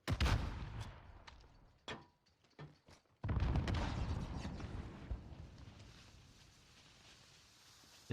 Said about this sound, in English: Bit of nade action over the top here.